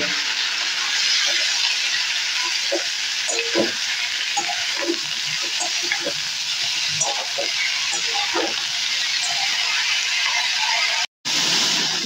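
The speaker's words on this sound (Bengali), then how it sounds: "ব্রোকলিগুলো কিন্তু আমার ভাজা হয়ে গেছে" Broccoli frying in oil in a pan while being stirred, a steady loud sizzle with scattered scraping knocks of the spoon and a short break near the end.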